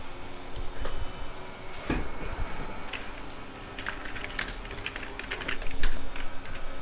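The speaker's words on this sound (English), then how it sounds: "Just typing" Computer keyboard being typed on in quick, uneven bursts of close clicking taps over a low background hum, with short lulls between runs of keystrokes and no talking.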